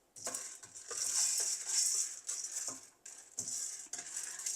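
Two tablespoons of chana dal roasting dry in a pan, with a steady hiss and repeated scraping and clinking of a spoon as the lentils are stirred, close and fairly quiet.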